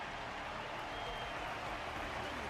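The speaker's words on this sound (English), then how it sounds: "Their constant applause is a salute to this resilient Belabogian fighter." Steady, dense crowd applause fills the whole stretch at an even level, with a faint voice under it, from a match audience in the video game Honkai: Star Rail.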